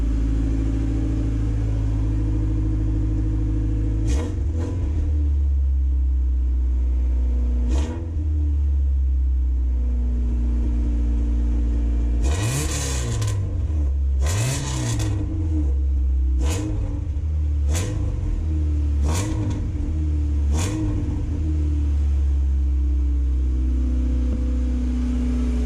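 A Honda Civic EF engine idles with a steady low rumble, then is blipped through a series of short, sharp revs, climbing to roughly three thousand rpm before dropping back each time. The engine is close and loud, with no talk.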